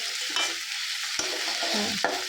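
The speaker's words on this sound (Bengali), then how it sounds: "এটা ভালো করে কষে নেব।" Spices turned golden frying in hot oil, with a continuous sizzle broken by a few sharp stirring scrapes; close and even throughout, with no speech.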